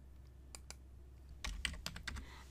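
Keys tapped on a computer keyboard while typing a report name: a few isolated clicks, then a quicker burst of close, crisp keystrokes over a low hum.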